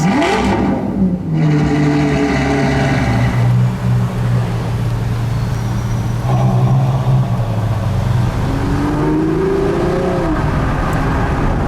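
A Ferrari FF fitted with an IP exhaust drives on a road home, its engine droning steadily and loud up close, the pitch sinking and later climbing as it shifts and accelerates, with no talk over it.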